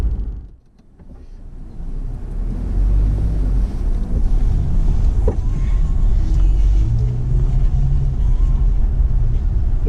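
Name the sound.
car driving through New Westminster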